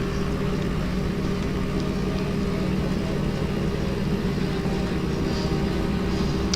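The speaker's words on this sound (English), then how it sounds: "Cute wee tractor, this one." A small engine chugs steadily at close range, a continuous low rumble with no pauses throughout.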